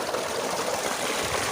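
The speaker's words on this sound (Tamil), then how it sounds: "தண்ணி எடுத்து விட்டு கட்டிகிட்டு இருக்கேங்க" Irrigation water flowing into a farm field, a steady rushing, trickling stream heard close by with no voices.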